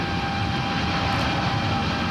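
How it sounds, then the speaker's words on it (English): Tunnel boring machine at an Iceland dam project, its cutter head turning and rock moving out on the conveyor, makes a steady dense roaring rumble that fills the space with no breaks. "You can hear the rumbling in the background, which means the cutter head is turning and the rock is going out in the conveyor system."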